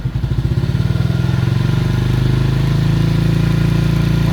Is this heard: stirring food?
no